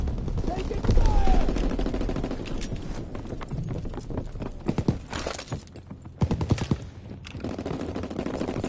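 Gunfire in a PS4 shooter game, bursts of sharp shots crackling over a busy game soundscape with hoofbeat-like clatter, mixed under tense voice chatter.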